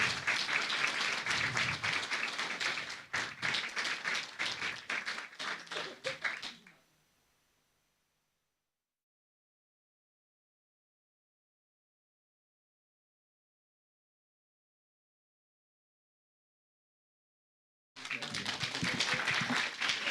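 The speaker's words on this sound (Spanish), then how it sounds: "Muchos aplausos." A church congregation applauds during a Sunday service, a burst of clapping for several seconds that cuts off into silence, then resumes at the end; voices blend in.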